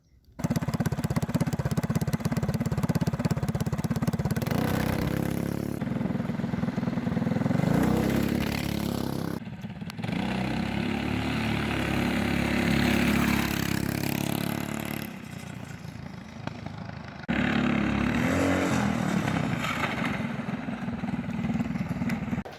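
A small drift kart engine revs hard and high after its chain has fallen off, with a buzzing, chainsaw-like whine, dipping briefly a few times before screaming back up, loud and close.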